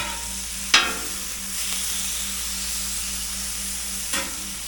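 Cheesesteak meat sizzling steadily in a hot pan with Worcestershire sauce, a continuous frying hiss broken by two sharp scrapes or clacks of a utensil stirring, near and without talk.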